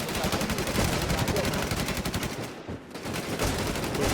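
Rapid automatic gunfire in a multiplayer shooter game, loud and nearly continuous bursts with a brief pause midway before firing resumes.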